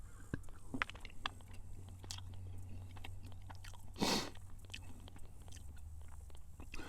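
A chocolate bar from a Slovenian military combat ration is bitten and chewed up close, giving soft crunches and a louder single bite midway over a low steady room hum, with no speech.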